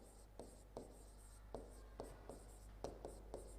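Chalk or marker scratches out a trigonometry lesson on a classroom board in a quiet series of short, rhythmic strokes, each ending in a faint tap, over a low steady hum.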